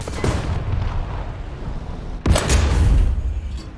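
A tank shell slams into the player's tank in the War Thunder tank simulator, striking the transmission: a sudden loud, close boom cutting through a steady low engine rumble, followed by heavy rolling reverberation.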